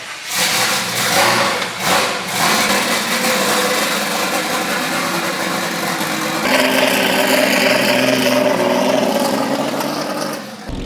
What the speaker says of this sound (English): you guys will see some laps and the car going around the track